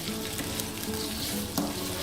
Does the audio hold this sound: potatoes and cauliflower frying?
yes